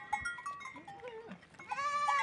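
A newborn goat kid on a rural farm bleats hungrily to nurse, a few close, wavering cries rising into a loud, sustained final bleat, with no talk over it.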